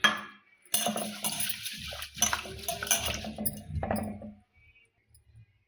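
Corn and chickpeas are washed by hand in water in a pot, with sloshing, swirling splashes and light clinks of the vessel, close and uneven, fading to near silence at the end.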